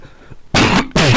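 Two forceful throat-clearing coughs burst out close and loud, one after another, following a brief quiet moment.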